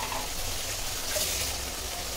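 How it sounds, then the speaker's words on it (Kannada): A mint and rice paste fries in a pan, a continuous, fairly loud close sizzle and bubbling hiss that holds steady throughout, with no voices. "ಇದು ಹಸಿ ಸ್ಮೆಲ್ ಹೋಗೋ ತನಕ"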